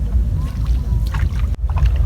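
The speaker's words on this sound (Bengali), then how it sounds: "চালালে নৌকার সামনে যে একটা কলকল আওয়াজ হয়" Water gurgles and splashes at the bow of a rowed wooden village boat in rural Bengal, a loud, close, churning wash mixed with wind buffeting the microphone, briefly cutting out near the end.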